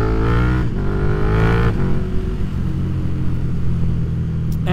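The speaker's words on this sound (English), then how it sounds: "But the problem is now, I don't even think you can hear the bike." A new motorcycle's engine revs loudly and close, with a rising whine in the first two seconds that settles into a steady, heavy rumble with no talk.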